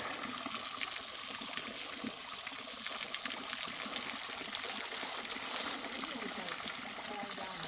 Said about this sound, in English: Not a lot of water flowing, but it's pretty.